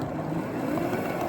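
Broad rushing, grinding roar from a miniature ride-on train on frozen, slippery rails on a misty morning, wheels slipping continuously and close for a brief moment.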